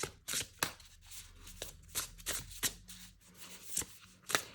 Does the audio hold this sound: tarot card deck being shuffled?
yes